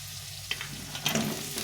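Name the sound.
ridge gourd frying in a pan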